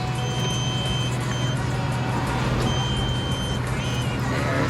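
A tow truck's reversing alarm beeps in a steady repeating rhythm over a low idling engine, close by.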